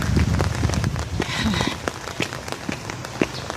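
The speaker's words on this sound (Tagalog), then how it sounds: "drizzle, ambon, hindi siya malakas na ulan" Light, steady pattering of drizzle with soft scattered drops, continuous and fairly close, with faint background sounds but no clear talking.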